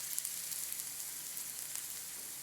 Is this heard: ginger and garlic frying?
yes